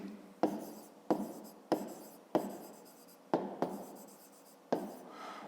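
Pen strokes on paper while a math exercise is written out by hand, six distinct scratching bursts at a regular pace, each starting sharply and tailing off, close and fairly quiet with no talk.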